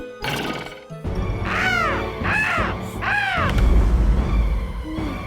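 A bird caws three times as a loud, harsh sound effect, each cry drawn out and close, over a background of noisy clatter and rumble.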